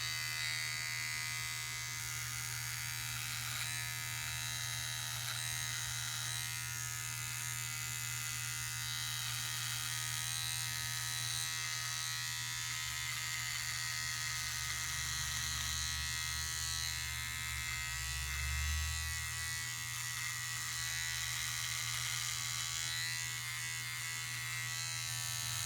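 A Remington Durablade electric razor buzzes steadily and close up for the whole stretch, shaving against the grain with a constant motor hum and slight shifts in tone as it moves over stubble.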